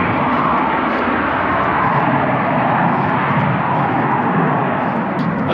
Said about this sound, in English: One of the big Delta planes just took off out of this local airport.